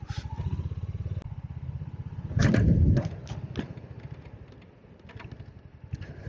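A Royal Enfield Hunter 350 single-cylinder motorcycle thumps steadily up close, with a brief loud surge of revs and clattering, then settles back to a rhythmic idle-like beat with small pops.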